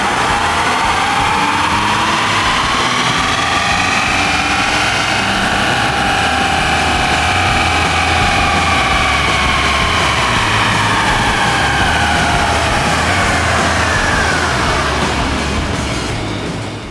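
Twin-turbo 3.5L EcoBoost V6 in a 2015–2016 Ford F-150 on a chassis dyno with the stock tune, roaring steadily at full load for the whole pull, with a rising whine sweeping upward and a slight fade at the end.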